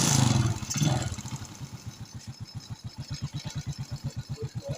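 A Suzuki Shogun 125 motorcycle engine, running after its ignition pulser was replaced, starts and settles into a steady close, rhythmic putter, with a brief burst of noise at the start.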